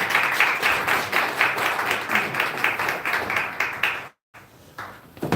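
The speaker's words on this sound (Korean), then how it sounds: "다시 한번 큰 박수로 맞이해주시고요" Steady applause from a crowd at a church forum's annual general meeting, dense overlapping claps for about four seconds, then a brief silent gap before clapping resumes.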